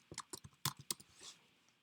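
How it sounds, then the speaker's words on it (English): Typing sample text on a computer keyboard, a quick run of soft, close key clicks of uneven rhythm that trails off after about a second, with no talking. "I'm going to just type in sample text."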